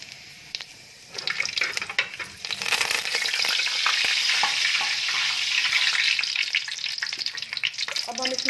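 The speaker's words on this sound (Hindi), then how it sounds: "चंद सेकंड तक फ्राई करेंगे। और साथ में हम इसका ये ज़ीरा भी ऐड कर देंगे।" Cumin seeds frying in hot oil for a Bengali fish salan: a quiet start, then a sharp crackling sizzle that swells and stays busy and close, with a few spits and clinks and no talking.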